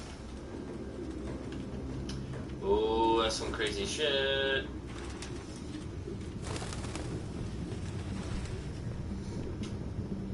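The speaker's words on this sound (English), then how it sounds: "No human could live with all these fucking pigeons." Pigeons coo in a cluttered apartment in the game Detroit: Become Human, one soft warbling call over a low ambient hum, while someone speaks over parts of it.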